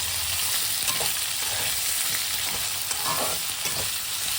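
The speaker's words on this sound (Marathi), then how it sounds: "आपल्याला ते परतून घ्यायचे आहे याला तूपही काही जास्त लागत नाही" Sweet potato slices sauté in a little ghee with a continuous bright sizzle and occasional soft stirring scrapes, steady and close, with no talking.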